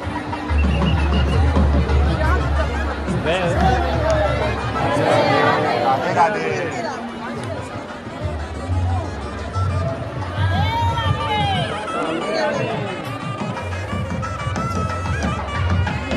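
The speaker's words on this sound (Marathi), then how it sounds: "खूपच गर्दी." A dense crowd chatters continuously at the opening day of the Shree Dwarkadhish temple in Mumbai, a loud, steady hubbub of many overlapping voices close around the listener.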